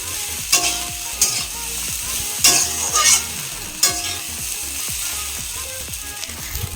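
Chow mein is reheated and stirred in a pan, with a steady close sizzle broken by several sharp scrapes and clanks of the spatula against the metal, no voices.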